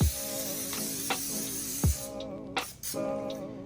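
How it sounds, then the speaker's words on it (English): A few short sprays of cooking oil hiss from an aerosol can in separate bursts, close up, over a steady background hum with quiet sizzling in a pancake pan. "Then we're just gonna go ahead and spray."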